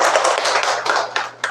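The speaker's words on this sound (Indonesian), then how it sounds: "Tepuk tangan untuk Novita" A classroom claps for a student named Novita, a short burst of applause from several hands that thins out into a few scattered final claps.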